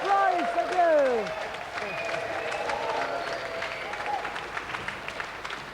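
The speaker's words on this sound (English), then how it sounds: "Another round of applause for our winner and our golden loser, Christian Price" Studio audience applause for a game show winner, steady clapping with some cheering, while a presenter's voice rises over the start and then eases off.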